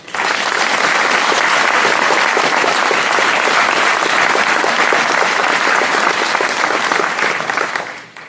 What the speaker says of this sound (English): please join me in a round of applause for these warriors